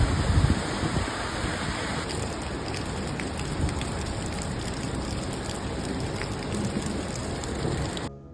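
Heavy rain pours down in Okinawa as a loud, dense, unbroken hiss of drops on surfaces, steady for several seconds before cutting off abruptly.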